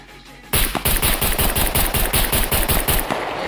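Rapid automatic gunfire in the survival video game SCUM, a loud steady stream of shots that bursts in after a brief quiet start and keeps hammering evenly to the end, with no talk.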